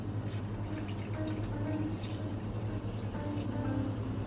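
Cold water running steadily into a dough mixture of flour and fine salt, a continuous close splashing stream with a faint low hum beneath it.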